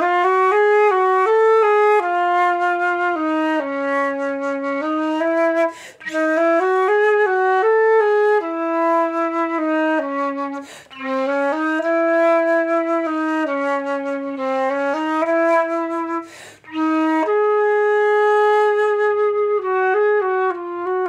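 A sustained melodic wind instrument, flute-like, plays alone with rapid alternating trills between neighbouring notes, broken by a few short pauses.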